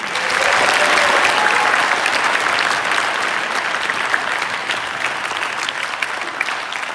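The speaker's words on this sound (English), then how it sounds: "Can we give them a round of applause?" Sustained applause from a large crowd at a school orchestra winter concert, a dense wash of clapping that stays strong and even, easing only slightly toward the end.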